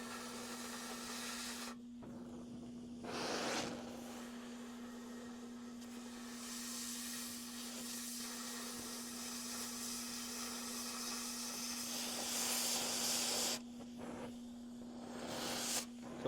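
A gas torch flame hisses steadily and broadly, with short gaps and surges as the flow changes, under a constant low electrical hum.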